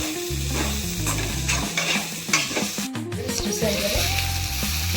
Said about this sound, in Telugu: ఇలా యాడ్ చేసుకొని బాగా లో ఫ్లేమ్లో పెట్టి ఫ్రై చేసుకోవాలి.